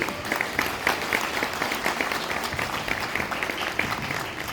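An audience at a fundraising evening claps to welcome journalist Iqrar ul Hassan onto the stage, a lively, continuous round of applause with some individual claps standing out.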